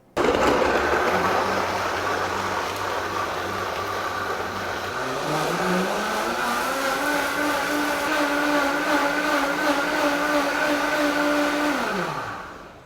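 A powerful high-speed blender making juice spins up loudly, runs steadily with a rising whine, then winds down near the end.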